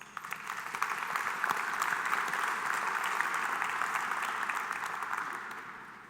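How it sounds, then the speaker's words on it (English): A large conference audience at the opening of the GEOINT 2021 symposium breaks into sustained applause, a dense wash of clapping that swells, holds steady for several seconds and then begins to fade. "Please give yourself a round of applause"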